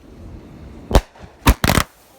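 Three firework cakes popping together outdoors, a few sharp loud cracks in a brief cluster, with wind in the background and a little voice around them.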